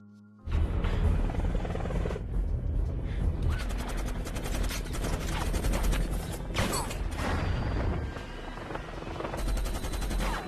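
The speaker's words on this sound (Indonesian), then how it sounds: "berhasil menembak helikopter itu" Helicopter under heavy automatic gunfire in a film battle scene, with dense rattling bursts and mechanical clatter sustained at high intensity after a sudden start, continuing almost without break.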